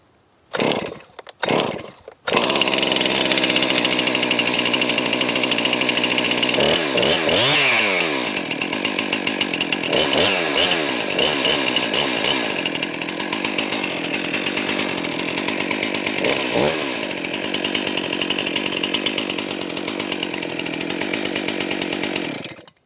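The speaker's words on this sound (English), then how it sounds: "I'm going to start the chainsaw" A Stihl MS 261 chainsaw is pulled a couple of times, catches, then roars and idles continuously, its engine revving up and down now and then.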